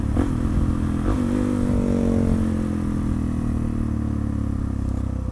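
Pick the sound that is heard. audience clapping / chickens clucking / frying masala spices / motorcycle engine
motorcycle engine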